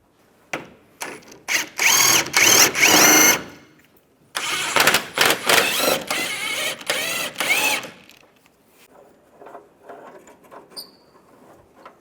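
A ratchet tightens the engine cradle bolts on a 2005-2010 Chevrolet Cobalt in two loud, rapid bursts of clicking, close up. Quieter scattered clicks follow.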